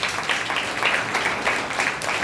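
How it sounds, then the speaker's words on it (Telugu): A church congregation at a Lent service claps together in a sustained burst, the many hands blending into a steady, moderately loud patter that fills the room. "ఒకసారి చప్పట్లు కొట్టండి."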